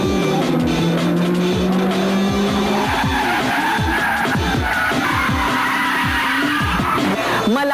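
A modified race car tears along a road, its engine roaring and rising through gears while tires squeal and skid repeatedly, loud and close for several seconds.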